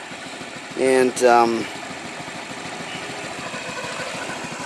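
A Honda Metropolitan CHF50 scooter idles steadily after an oil change, its small engine putting out an even, close putter that runs throughout, with a brief spoken word near the start.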